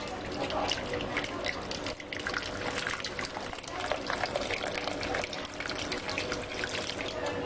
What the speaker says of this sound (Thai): ใส่น้ำด้านข้าง เป็นน้ำต้มสุกนะคะ ที่ปล่อยให้เย็นแล้วนะ